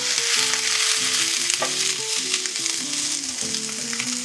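Cauliflower and scallions sizzle in a pot for a chicken and leek one-pot dish, a loud, close, constant frying crackle, while a bright melodic tune runs underneath.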